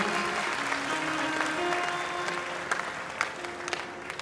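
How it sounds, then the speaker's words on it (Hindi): An audience claps steadily throughout at a Shiv Mahapuran religious katha in Tapa Mandi, Punjab, a dense sustained round of applause with a few sharper claps standing out toward the end. "तो एक बारी स्वामी श्री गिरिशानंद शास्त्री जी के नाम से ताली बजा दो।"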